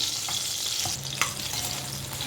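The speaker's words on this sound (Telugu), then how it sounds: "వంకాయలు ఇలాగ ఆయిల్లో మగ్గించుకోవాలండి. వంకాయలు ఇలా మగ్గుతున్నాయండి." Eggplants softening in hot oil in a pan, a constant soft sizzle and bubbling with a few small pops and a light stir partway through, close up and quiet, no talking.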